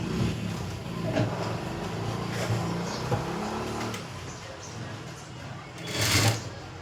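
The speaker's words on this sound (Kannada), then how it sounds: "ಈ ಥರ ಉದ್ದಕ್ಕೆ ಹೊಲಿಗೆನ ಹಾಕೋರಿ" A sewing machine stitches a long seam along the lining of a collar-neck blouse: a steady, close mechanical whir that runs almost throughout, with a brief louder surge near the end.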